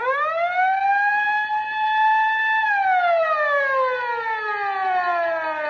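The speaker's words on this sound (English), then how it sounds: "Whenever you hear the siren and bell," A loud siren wails, rising and holding its pitch before sliding slowly downward, steady and continuous with no other sounds.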